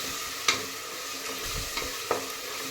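Ginger garlic paste frying in a pan while being stirred, a soft steady sizzle with a few sharp scraping clicks of the spoon against the pan.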